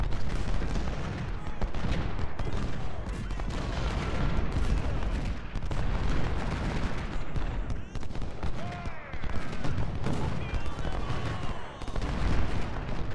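Musket gunfire in the Civil War strategy game Ultimate General, Shiloh battle at dawn: continuous volleys of rifle shots crackling over one another, with dull booms mixed in, loud and unbroken throughout.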